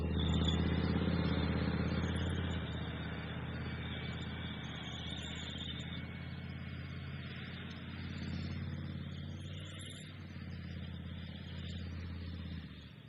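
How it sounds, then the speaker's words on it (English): A Leopard 1 tank's large MTU diesel engine runs with a loud, steady low rumble and strong harmonic drone, swelling slightly midway, with no speech over it. "you can see there and hear there that sense of power in that engine gives"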